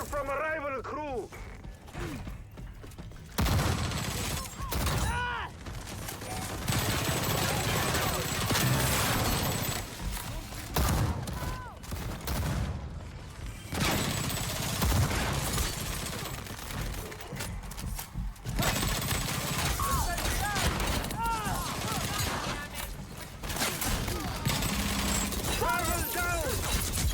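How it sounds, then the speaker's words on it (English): Gunfire from a rival crew in the video game Hyenas: continuous chaotic shooting and mechanical clatter in dense bursts, mixed with game effects and a person talking over the action throughout. "I'm under fire from a rival crew."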